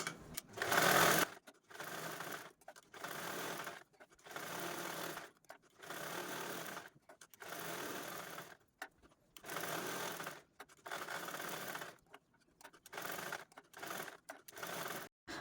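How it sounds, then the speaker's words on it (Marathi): A sewing machine stitches fabric for a small three-pocket purse in repeated whirring runs of a second or two each, separated by short pauses, close and steady, with no talking. "त्यानंतर अशा पण आपण टिपा मारून घेऊ"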